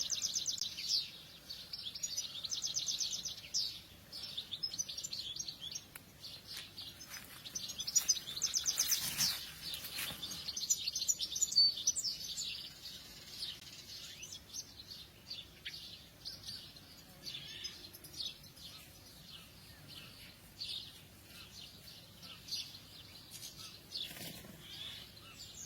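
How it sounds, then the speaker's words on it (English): Faint, distant birdsong chirps and twitters continuously at sunrise in a quiet outdoor setting, with occasional soft flutters and no talking. "I'm being very quiet and letting you listen to the birds"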